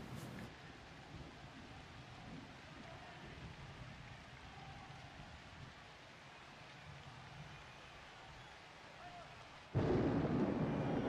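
Steady rain and rumbling thunder during a Blood Bowl video game match, a constant wash throughout that swells suddenly louder near the end.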